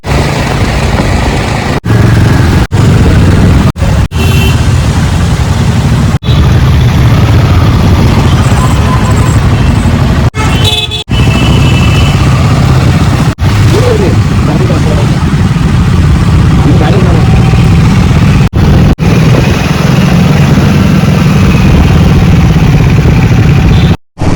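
A Triumph 400cc motorcycle engine drones steadily and loudly as the bike is ridden near a wheelchair cricket ground, the engine note continuous under wind buffeting and occasional talk.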